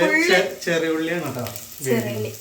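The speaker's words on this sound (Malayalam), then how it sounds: "പച്ചമുളക് ഇട്ട് കൊടുത്ത് ഒന്ന് വഴറ്റി." Green chilies sautéing in a pan for a mackerel curry, the light sizzle running beneath a person talking throughout.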